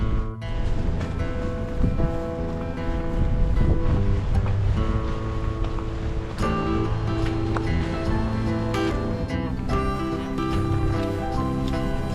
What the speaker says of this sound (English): it is a windy day and we're just getting moving here